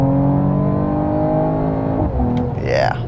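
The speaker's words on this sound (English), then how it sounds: "Try out some downshifts, throw it into sport mode" A 2024 Mercedes-AMG GT 43 engine in sport mode runs at steady, loud interior drone, then blips upward in a rising rev near the end as it downshifts, with voices in the cabin.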